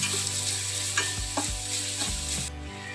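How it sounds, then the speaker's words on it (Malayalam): Chopped onion hits hot oil and fries in a pan for a vegetable cutlet, a dense steady sizzle with periodic scraping stirs and clanks of a spoon against the pan, close up. "അപ്പോൾ ഓയിൽ ചൂടായിട്ടുണ്ട് അപ്പോൾ നമുക്ക് അതിലേക്ക് ഈ കൊത്തി കഴിഞ്ഞ് വെച്ചിരിക്കുന്ന സവാള അതിലേക്ക് ഇട്ട് കൊടുക്കാം"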